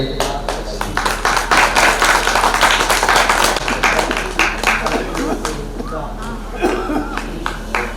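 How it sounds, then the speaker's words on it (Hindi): An audience at an Arya Samaj gathering clapping throughout, a dense run of hand claps that rises and then thins out, with voices talking and a low electrical hum from the public address system beneath it. "आप लोग तालियां भी बजाइए।"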